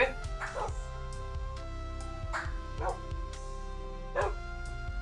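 Several dogs in the video game Minecraft bark in short, repeated yips and bow-wows spread across the stretch, moderately loud, with a faint voice underneath.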